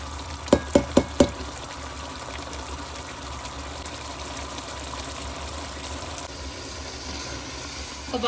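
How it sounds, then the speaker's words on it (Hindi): Egg masala kebabs frying in a pan over high heat as the water cooks off, giving a steady soft sizzle, with a quick run of four sharp taps near the start. "कबाब हमारे भुनने पे आ गए।"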